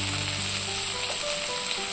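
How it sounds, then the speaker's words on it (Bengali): Crushed garlic hits a pan of browned onions and sizzles loudly and continuously, a close, dense frying hiss with no talking. "ব্রাউন হয়ে আসছে, এবারে দিয়ে দিচ্ছি থেতো করা রসুনগুলো"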